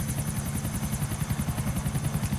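Helicopter in the video game Grand Theft Auto, multiplayer; rapid, steady rotor chop with a whining turbine overtone, loud and close, continuing without pause.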